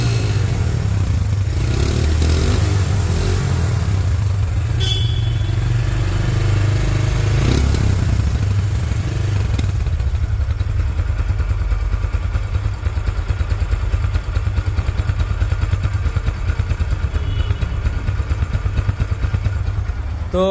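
Close and loud, the engine of a second-hand 2022 Hero Ignitor motorcycle runs continuously, with a clattery idle that shifts slightly in tone partway through, heard alone without speech.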